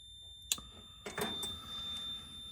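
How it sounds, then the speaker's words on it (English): A Maytag 2000 series dryer under repair gives off a thin, sustained high electronic beep, overlapped by a few brief clicks and clatters from nearby handling. "Let me turn this annoying beep off."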